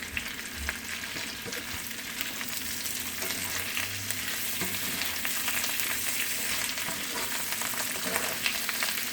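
Mushrooms, onions and bacon fry in a skillet with a steady hiss and sizzle, stirred now and then with soft scrapes and taps, the sound held level throughout and no one speaking.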